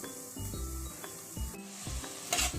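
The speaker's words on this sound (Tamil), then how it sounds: "இப்போ தக்காளியும் பச்சை மிளகாயும் ஆட் பண்ணி வதக்கிக்கலாம்" Onion, tomato and green chillies sautéing in a pan, a continuous sizzle with rhythmic stirring and scraping strokes of a spoon against the pan.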